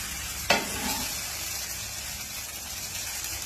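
Ridge gourd dosa crackles on a hot pan just after being flipped: a sharp knock from the turn, then a steady, close, even sizzle fills the rest, with no one speaking.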